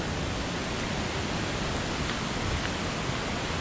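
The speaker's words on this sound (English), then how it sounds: "it's a huge waterfall, but it's beautiful" The Afu Aau waterfall in Samoa roars in a dense, steady wash of falling water, loud and unbroken, with no voices.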